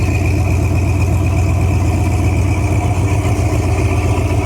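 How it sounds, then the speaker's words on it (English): A 1968 Ford Torino two-door hardtop with dual exhaust idles steadily, a close, loud, low rumbling engine with an even rhythmic burble and no voices. "But it sounds good. Dual exhaust."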